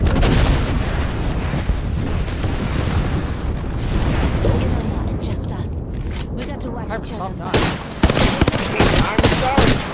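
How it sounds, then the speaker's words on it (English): Orbital bombardment explosions and gunfire in a video game, a dense, loud barrage of booms and rapid shots rolling on continuously, with sharper bursts near the end and a voice talking over the din. "I'm just taking fire, friends. It's bombarded from orbit."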